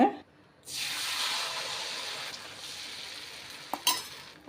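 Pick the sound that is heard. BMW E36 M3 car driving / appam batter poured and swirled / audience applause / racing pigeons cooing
appam batter poured and swirled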